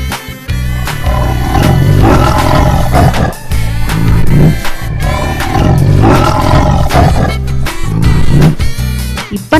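A tiger roars loudly and repeatedly, with deep growling roars recurring in a steady pattern across about ten seconds, close and full.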